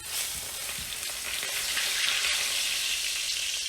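A smoked, reverse-seared Texas-style ribeye steak sears in a hot pan, giving off a steady, dense sizzle with small crackles that continues without a break from beginning to end, close and fairly loud with no talking.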